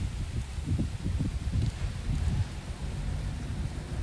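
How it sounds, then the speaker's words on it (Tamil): Steady, rumbling wind roars and buffets continuously at close range in the Seychelles, with low gusty surges and no voices. "காற்று நல்லா செம காற்று வீசுது"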